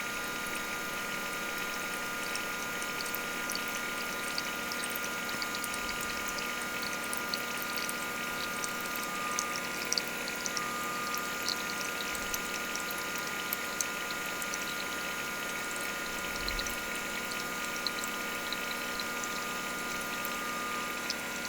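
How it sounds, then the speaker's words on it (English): Liquid solution poured into a filter while refining gold from plated pins, a steady continuous trickling wash with a constant hum underneath, sped up and unbroken throughout. "pour that into the filter"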